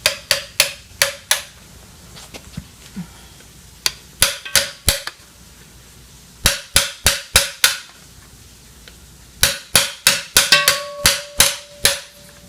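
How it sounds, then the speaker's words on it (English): A metal punch is hammered against a stuck fan in a Porter Cable CF2600 pancake air compressor, making sharp, ringing metallic strikes in quick bursts of three to six blows, separated by short pauses. "then try tapping it. Just going to use a punch."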